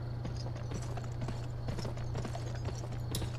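Horse hooves clip-clopping in a western shooter video game, a fairly rapid run of soft rhythmic hoofbeats over a steady low engine-like drone.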